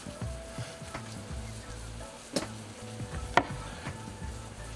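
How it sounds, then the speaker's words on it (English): Butter melts and sizzles in a cast iron skillet for French toast sticks, a soft, steady crackling hiss broken by a few sharp pops and clinks, with no talking. "Give the butter time to melt down in there."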